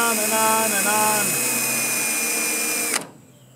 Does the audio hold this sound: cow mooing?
no